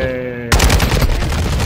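A loud burst of automatic gunfire erupts in a Call of Duty video game after a brief tonal lead-in, then continues as rapid, dense shots close by.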